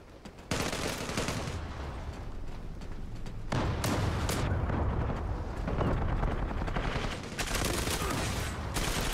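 Shotgun fire in the video game Zula, bursts of loud, dense booming shots in bursts separated by brief lulls, close and harsh, with no voices over them.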